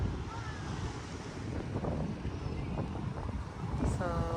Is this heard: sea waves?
yes